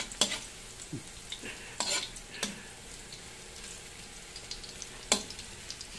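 Bitter gourd (ampalaya) sautés in a pan, a soft steady sizzle beneath a handful of sharp utensil scrapes and clinks against the pan at irregular intervals, close and fairly quiet.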